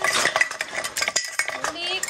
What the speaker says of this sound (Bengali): খুন্তি চালাচ্ছে দেখো